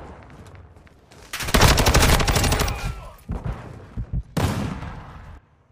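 Rapid SMG fire bursts out in a first-person shooter game, a long loud burst followed by several shorter ones, close and dominant.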